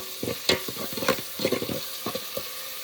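A spice tempering for Kolhapuri-style mutton paya soup, made over a wood-fired stove, sizzles while a spoon scrapes and stirs in quick, uneven strokes over a steady frying hiss.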